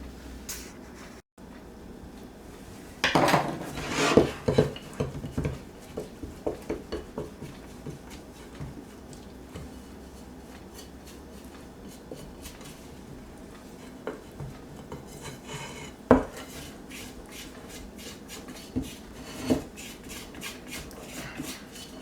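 A scraper works potato bread dough on a board, giving scattered scrapes, knocks and clatters that cluster early on and then become intermittent, with no talking.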